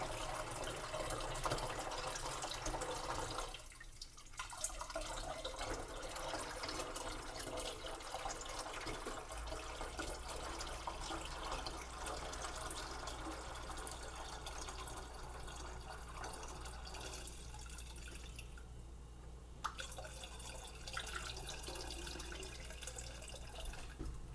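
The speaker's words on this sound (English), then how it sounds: "I'm going to head to pour the entire water into this container" Water pours and splashes steadily into a half-full kombucha container for a long stretch, with a brief pause partway through and another shift in the flow near the end.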